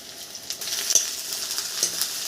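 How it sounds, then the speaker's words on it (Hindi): Spices crackle and sizzle in hot oil while tempering dal, a steady frying hiss with small pops and the occasional clink of a utensil. "अभी मैं मस्त पहले दाल में बस तड़का लगाना है मुझे"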